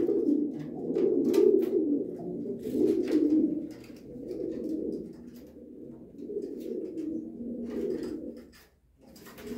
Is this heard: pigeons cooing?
yes